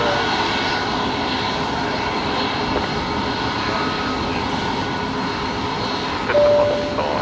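A Jetstar airliner passes over Brisbane Airport toward the runway with a loud, steady engine roar that fills the whole stretch. A faint tone and a slight swell come near the end, with no clear talk.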